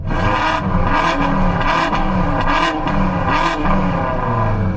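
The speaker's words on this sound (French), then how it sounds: "vous pouvez faire vrombir vos voitures ensemble" Two 1,000 hp BMWs, an M4 and an M5, rev together before a drag race against a Bugatti Chiron Super Sport, giving a loud continuous engine roar with repeated surging blips and no speech over it.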